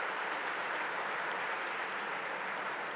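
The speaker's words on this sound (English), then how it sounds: "So a big round of applause to the foundation." A gala audience applauds a charitable foundation that funds scholarships, producing a thick, uniform wash of clapping that stays constant and fairly loud across the whole moment.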